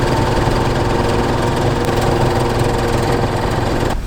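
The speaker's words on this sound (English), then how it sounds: "Now we'll sew this up." A sewing machine stitching the inner-thigh seam of sweatpants made from a bedsheet runs with a steady, loud, continuous motor hum and rapid needle clatter for about four seconds, then cuts off abruptly at the end.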